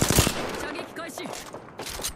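Apex Legends gunfire, a quick burst of rapid shots at the start, followed by fainter game sounds and a character voice speaking over the action.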